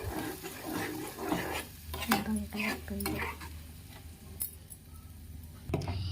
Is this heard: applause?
no